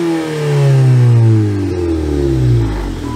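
A car engine, apparently a tuned car with a new downpipe, revs up and then winds down slowly, its pitch sliding steadily lower over several seconds, loud and close with no talking.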